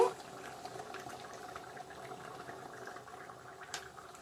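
Egg curry gravy boiling in a pan with eggs added, a steady soft bubbling and simmering close by, fairly quiet, with a faint clink near the end.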